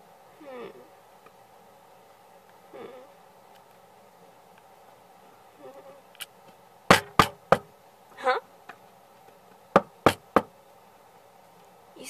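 Sharp knocks on a house door, two quick groups of three raps each, loud and close against a quiet room with a faint hum and soft movement sounds before them.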